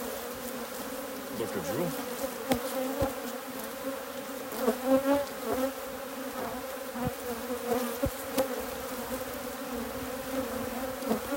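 Honeybees swarm and drone around an open hive as a frame is handled for royal jelly production, a dense close buzz with individual bees whining past, while a person speaks briefly in the background.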